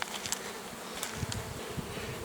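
Steady, dense buzzing of many honeybees, a continuous low drone with faint rising whines from individual bees passing close.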